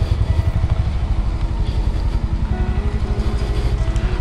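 Honda CB350RS motorcycle engine running steadily while riding, a loud, close, even low thump with no talk over it.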